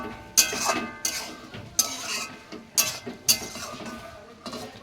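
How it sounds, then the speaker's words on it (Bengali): Lid set back onto a cooking pot while a green pea dish simmers: several sharp metallic clinks and taps spaced apart, close by, with no talking. "আবার ঢাকা চাপা দিয়া দিলাম"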